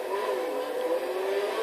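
A tuned limousine in Grand Theft Auto V revs its engine with a steady, close, loud whirring drone that climbs slightly in pitch, heard alone without talk.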